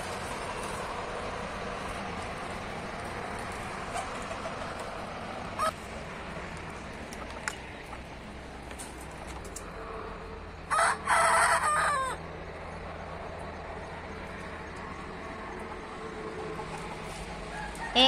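Free-roaming chickens cluck faintly in the background, and a rooster crows once loudly near the middle, with a few other short bird calls scattered around.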